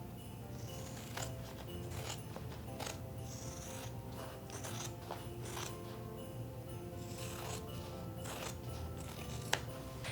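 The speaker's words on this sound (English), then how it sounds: "just using your fabric scissors, cut through all the layers" Repeated crisp snipping of fabric scissors cutting through layers of embroidered fabric for a treat pouch, a steady series of close, soft metallic clicks and rasps over a low background hum.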